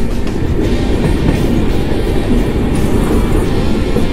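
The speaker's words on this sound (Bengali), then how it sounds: "ট্রেনটা ঠিক পাশ দিয়েই যাচ্ছে" A passenger train on the Kolkata to Siliguri route rumbling close alongside, a loud continuous roar of wheels and carriages with faint rhythmic clatter, no voices.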